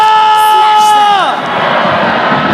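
A large esports arena crowd roars at an MPL Indonesia Season 15 upper bracket final, loud sustained cheering and shouting; a held tonal sound slides down partway through as the crowd noise swells.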